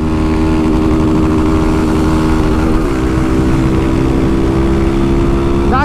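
A modified Honda Start 160 motorcycle with a 16-tooth sprocket, Jet camshaft and unfiltered Doré intake revs hard and loud, its engine note climbing through gears under a helmet camera with no talk.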